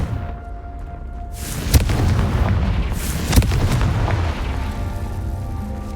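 Blasting spell explosions in Hogwarts Legacy, two sharp booms roughly a second and a half apart, each trailing into a loud rumbling roar over steady game ambience.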